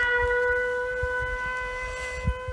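An air raid alert siren holds a steady, sustained wailing tone with layered harmonics, moderately distant and continuous, over faint background noise, with no one speaking.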